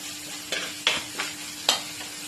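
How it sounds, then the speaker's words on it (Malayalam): Onion, garlic and ginger sauté in a pan with turmeric for a fish curry, a steady soft sizzle broken by a few sharp scraping stirs against the pan, with no one speaking. "മഞ്ഞപ്പൊടി ഇട്ട് നന്നായിട്ട് ഇളക്കി കൊടുക്കാം"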